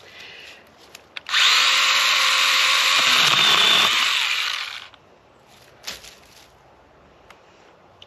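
A small battery-powered STIHL garden pruner runs close by: after a couple of faint clicks the motor buzzes up to a steady high whine for about four seconds, then winds down and stops, followed by quieter handling noises.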